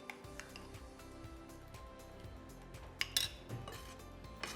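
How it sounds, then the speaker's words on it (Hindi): A thick yogurt marinade for tandoori soya chaap, with chaat masala, kasuri methi, coriander and lemon, is mixed in a bowl, giving faint scraping and clinks of a utensil against dishware, with a brief louder clatter near the middle. "इसे हम अच्छे से मिक्स करेंगे"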